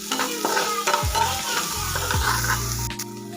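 Turmeric and finely ground green chili masala being stirred in a pan for batata vada filling, several scraping strokes over a soft sizzle, close and clear, no talking.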